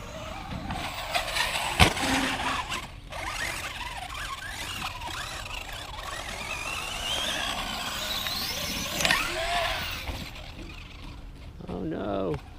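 A Traxxas X-Maxx RC truck driving through mud, its electric motor whining and revving in uneven bursts close by, with splattering and squealing throughout and people talking over it.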